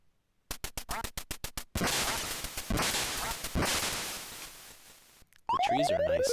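Ducks quacking in a 3D-rendered Duck Hunt game running through the 3dSen emulator on PC, with a rapid series of sharp game effects followed by a loud sustained burst of noise and then bright electronic tones.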